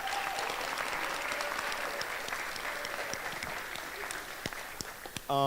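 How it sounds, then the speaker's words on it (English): A student club audience applauds steadily for several seconds, a continuous wash of clapping hands that tapers slightly near the end before a brief tonal sound cuts in. "So just a round of applause for Katsu."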